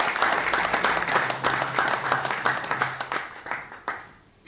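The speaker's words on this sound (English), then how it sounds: "Please, I will give His Excellency a round of applause." A room of attendees at a formal ceremony applauds in a dense round of clapping that holds steady, then thins out and fades with a few final claps.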